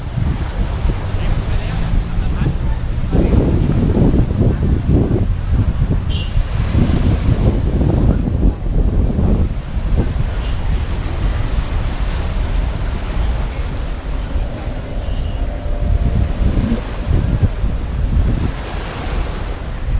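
Sea waves rolling onto the narrow beach along Beach Road in Pattaya, Thailand, a loud, steady wash of surf mixed with wind buffeting the microphone throughout.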